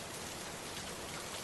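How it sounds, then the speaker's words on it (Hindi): Heavy rain pours down steadily through a cartoon jungle storm, a dense, even roar of drops that runs loud and unbroken with no voices. "उन चारों ने पहली बार ऐसी भयानक बारिश देखी है।"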